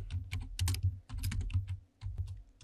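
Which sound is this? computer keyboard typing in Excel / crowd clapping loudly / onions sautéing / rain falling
computer keyboard typing in Excel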